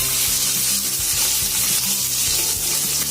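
Grated ginger and green chillies frying in a pan, a steady close sizzle with repeated stirring scrapes in a loose rhythm, loud and continuous with no talking.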